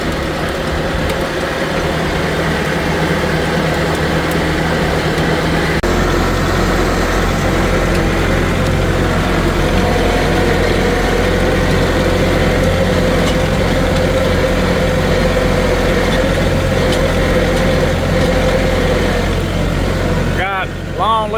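A Kubota tractor engine idles steadily close by on a rainy day, a continuous low rumble throughout with brief louder shifts, while someone talks over it.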